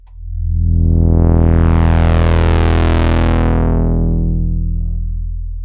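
Vintage Sequential Prophet-600 analog synthesizer holds a single loud, sustained buzzy note while its filter sweeps from bright down to darker and settles, with no talking.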